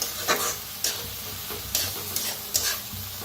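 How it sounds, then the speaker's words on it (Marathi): Dal roasting in a pan for a karadi greens dish, with a spoon stirring it in brisk scrapes that come at irregular intervals over a soft, steady sizzle. No one speaks. "डाळ मस्त अशी भाजून घेतलेली आहे"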